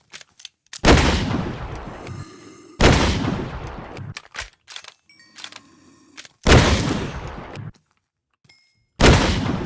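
Caldwell shotgun from the Minecraft Scorched Guns 2 mod firing four loud, sharp blasts spaced a couple of seconds apart, each decaying quickly, with clicking reload and handling noises between shots.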